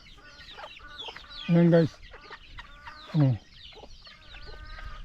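A mother hen clucks in loud, separate bursts after being taken from her eleven two-month-old chicks. Quieter clucks and cheeps fill the gaps between the calls, and someone speaks briefly.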